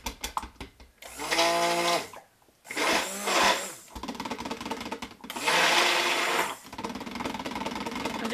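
Stick blender whirring through cucumber melon cold process soap batter as colorant is mixed in, running in several loud, steady bursts separated by brief pauses, close by with no voices.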